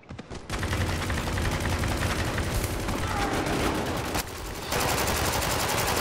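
Gunfire in Spec Ops: The Line rattles as a dense, rapid stream of automatic shots, loud and sustained with a brief lull near the end, while someone talks over it.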